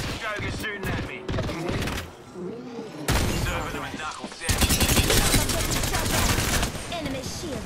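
Rapid bursts of gunfire and automatic weapon fire in the Apex Legends battle royale on the Olympus map, loud and dense, with breaks between volleys and game voice lines over the top.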